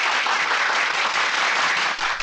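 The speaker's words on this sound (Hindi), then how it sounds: "बजाओ ताली।" Steady applause from a large crowd at a political rally, dense clapping that fills the whole stretch at a loud level with no talk over it.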